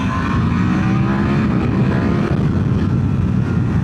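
A 2025 Ducati Panigale V4 sport motorcycle being ridden, its engine and wind rush forming a steady loud roar from the rider's position, continuous with no talking.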